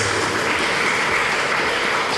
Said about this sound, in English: I would like to ask you for a round of applause for your families who are here today.